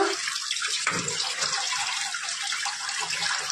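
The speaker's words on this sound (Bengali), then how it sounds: "এবার ধুয়ে নেব, ধুয়ে নিচ্ছি, জীবাণুমুক্ত হয়ে গেল।" Steamed broccoli and other vegetables are rinsed under running tap water, a steady close gush and splash that carries on unbroken, with no talking.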